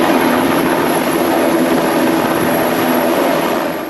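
NH-90 military helicopters hover in a loud, steady rotor and engine roar that fills the whole moment without pause, easing slightly at the very end, with no voices.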